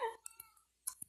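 A black-and-white cat in a multiplayer survival video game gives a short, close meow, followed by faint clicks and a brief second chirp in near silence.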